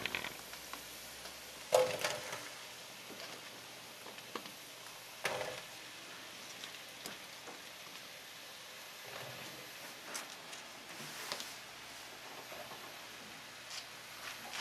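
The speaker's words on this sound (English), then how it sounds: "And then I'm gonna add cut up mushrooms" Cut-up mushrooms fry in a pan of grease with a faint, steady sizzle. A few soft clatters from the pan break in near the start and middle. No voices are heard.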